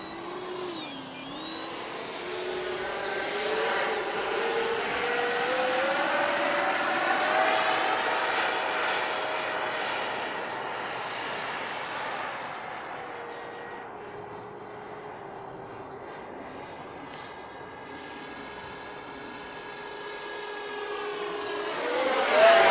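RC model airplane flying overhead, its small engine whining loudly with pitch rising and falling as it passes, fading somewhat mid-flight then climbing again toward the end, no talking.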